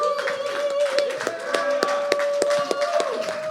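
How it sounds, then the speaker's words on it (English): A small podcast audience claps for performer Rocky, a quick run of sharp, separate claps over a steady humming tone. "Another round of applause, everybody."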